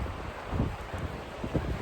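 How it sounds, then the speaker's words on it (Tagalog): Wind gusts across the microphone outdoors on rural land in Finland, a continuous, loud, rumbling buffet that rises and falls slightly throughout. "Tapos mahangin ngayong araw guys."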